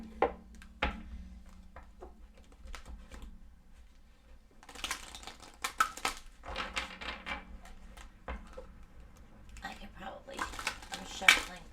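Oracle cards being shuffled by hand, soft intermittent papery riffles and shuffles in bursts, quiet and close, with a person speaking between them.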